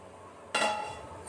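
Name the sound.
covering the pan with a lid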